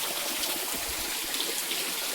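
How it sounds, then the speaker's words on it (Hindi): Spring water running steadily between rocks in a temple courtyard, a continuous soft trickling wash with no voices, moderately quiet throughout. "ये जो पानी है दोस्तों ये 12 महीने ऐसे ही बहता है, कभी नहीं सूखता।"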